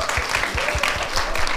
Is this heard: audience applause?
yes